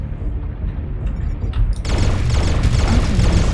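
Artillery strike explosions in a video game: a low rumbling boom, then a sudden broad, loud blast that keeps roaring and crackling densely to the end.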